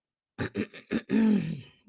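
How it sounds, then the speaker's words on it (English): Someone clears their throat with three short rough coughs followed by a longer gravelly grunt, close and alone. "let me clear my throat"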